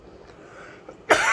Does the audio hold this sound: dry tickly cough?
yes